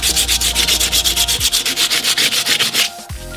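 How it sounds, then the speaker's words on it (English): An angle grinder with a flap disc works a steel axe in rapid rhythmic passes, a loud close rasping hiss that pulses about seven times a second before stopping. "I might even use the flap disc on my angle grinder."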